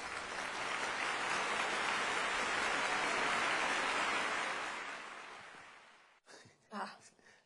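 A group of people claps in a dense, steady burst for about five seconds before the clapping fades away, and a voice then speaks briefly.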